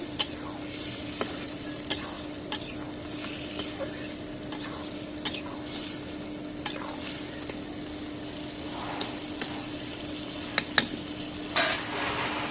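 Food being sautéed in a pan sizzles continuously at moderate volume, broken by sharp clicks and scrapes of a spatula stirring against the metal, with no voices.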